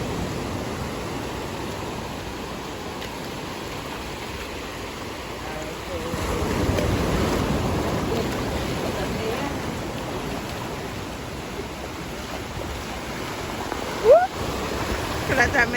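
Sea waves wash onto a beach as a steady, broad surf hiss, swelling louder midway, with a few brief sharp knocks near the end.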